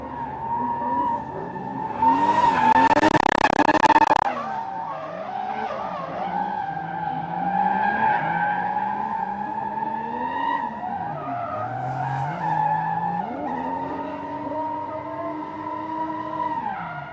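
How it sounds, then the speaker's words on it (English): A drift car slides through a run at the JK Tyre Drift Challenge, its tyres skidding and squealing over a steady racing engine roar, with a loud, dense burst of skidding early on that settles into a sustained howl. "Drift the car as smoothly as you possibly can."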